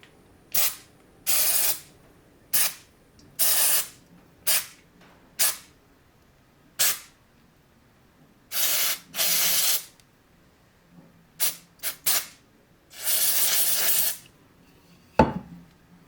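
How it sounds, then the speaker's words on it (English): Short bursts of carb cleaner sprayed from an aerosol can onto parts of a Husqvarna 266/268 chainsaw being rebuilt, a dozen or so hissing blasts of varying length with quiet gaps, close and clear with no talking. "So I'm just gonna give them a quick clean with the spray of carb cleaner."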